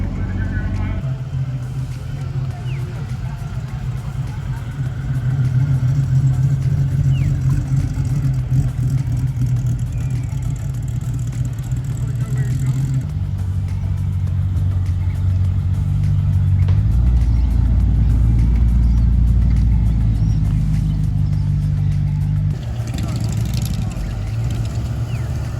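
A 1964 Ford Fairlane engine runs at a Father's Day car show in Hervey Bay, Queensland, giving a steady, fairly loud low rumble with a slight swell partway through, while people talk nearby.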